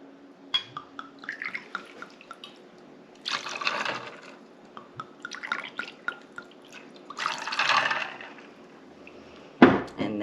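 Watermelon schnapps being poured into a cocktail glass with tequila gives soft intermittent liquid splashes and trickles, ending in a sharp clink of glass.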